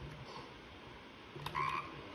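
A frog croaks in the Bear Simulator video game, a short, fairly loud croak over a steady game background hum with no talking.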